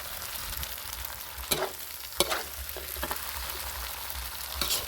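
Steady sizzling of wide rice noodles with soy sauce and egg frying in a hot wok, with several sharp scraping clatters as they are stirred and tossed.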